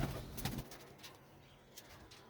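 Pigeons kept in a loft coo softly nearby, a low murmuring burst early on followed by fainter calls and rustling.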